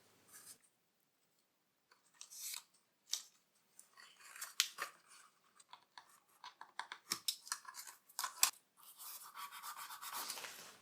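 Scissors snip through a paper strip during a scratch-built model build, producing a series of close, crisp cuts and rustles in irregular bursts, separated by near silence.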